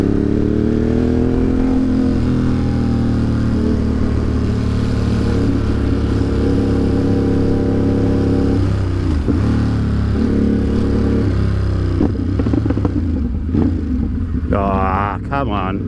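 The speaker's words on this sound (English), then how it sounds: "Hear the bike." A motorcycle engine roars steadily and loudly while riding through Brooklyn streets in New York City, the engine note rising and falling with speed, and someone talks over it.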